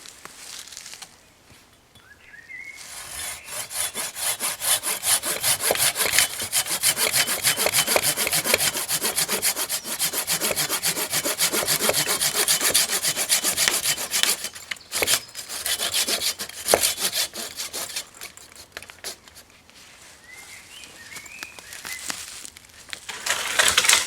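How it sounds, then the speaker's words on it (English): A Silky folding hand saw cuts through wood outdoors in a long run of rapid, rhythmic rasping strokes, close and fairly loud, pausing briefly midway before the sawing resumes. "Got a trusty silky saw, I love that stuff."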